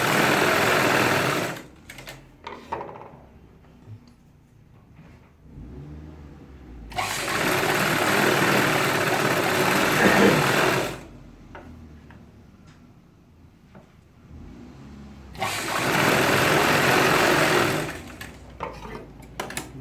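Industrial sewing machine running a straight stitch along the margin of a trouser pocket, in three sustained bursts of steady whirring separated by quieter pauses with small handling clicks.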